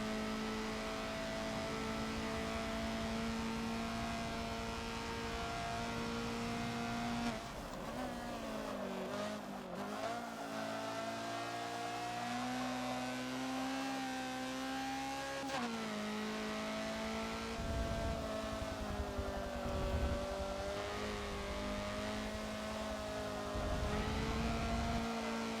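A Honda CRX engine revs hard through a chicane at Mugello club track in the Forza racing game, its steady loud tone dipping and rising sharply as it shifts between gears, with no talking.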